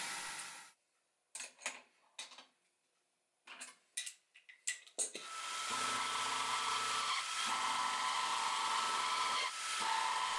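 Milling machine with a ripper cutter churning through aluminium: sharp intermittent cutting bursts separated by silence, then a sustained loud grinding, whining cut with slight pulsing, close and alone.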